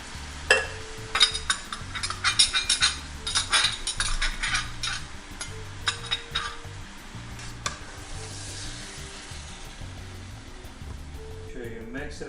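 Chicken fettuccine with tomato sauce sizzles and crackles in a pan while being stirred, with scraping and clinking of a utensil against the cookware, steady and close throughout with background hum.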